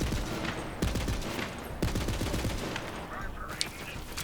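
A Jakobs weapon in Borderlands fires a dense, rapid stream of close gunshots over a continuous noisy game soundscape, with a few brief tonal effects near the end.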